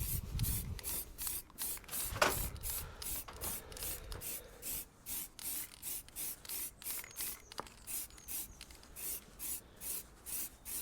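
Aerosol primer sprayed onto the back of Toyota Celica wheels at home, a series of short hissing bursts repeating in a steady rhythm, close and fairly loud with brief pauses between each pass.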